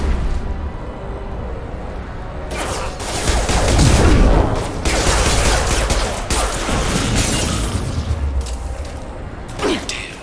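Sci-fi combat gunfire from Mass Effect 2 Legendary Edition, with dense bursts of rapid shots and booming impacts rolling continuously, loud and close, tapering off into scattered shots near the end.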